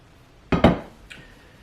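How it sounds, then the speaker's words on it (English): A Crofton brazier pan is picked up and handled, giving two close metallic clanks in quick succession followed by a faint light clink. "So I'm going to grab this Crofton brazier"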